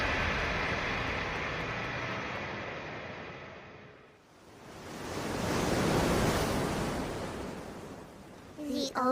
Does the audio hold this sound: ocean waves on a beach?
yes